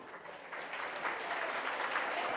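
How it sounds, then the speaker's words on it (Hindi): An audience claps at a cooking seminar, a dense crowd applause that swells after a moment and holds steady at moderate volume, with no voices. "उनके लिए सबसे पहले एक बार तालियां बजाइए"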